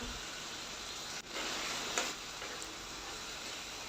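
Ginger, garlic, tomato and green chili paste sizzling in hot oil, a steady soft hiss that swells slightly partway through and then holds, fairly quiet and close with no talking.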